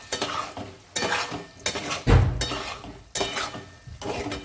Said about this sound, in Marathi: लगेच वाटाणा टाकून घेऊ याच्यात. शिजवून घेतलेला वाटाणा आहे.